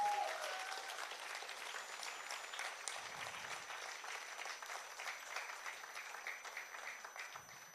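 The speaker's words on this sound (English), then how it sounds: "She has earned every single second of this applause." An audience applauds after a kathak dance debut performance, dense sustained clapping from a crowd that continues steadily throughout and fades slightly at the end.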